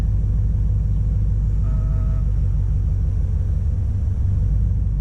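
A Subaru BRZ with a manual gearbox idles and pulls away in first gear, giving a low steady engine rumble close by, with a short faint tone partway through.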